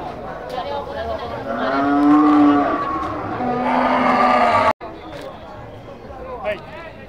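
Beef cattle moo loudly several times in drawn-out, low calls, with a crowd chattering and moving around them in East Java.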